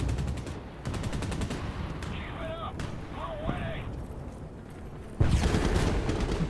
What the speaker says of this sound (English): Oh God, sounded like a 50 cal.